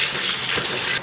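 Water gushes from a kitchen tap over a jackfruit being rinsed, a close, steady splashing rush that cuts off abruptly at the end.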